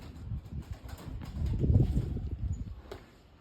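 Pigeons coo softly during a Punjabi pigeon-flying contest. Low, throaty cooing swells to a peak in the middle and then fades, along with faint scuffling.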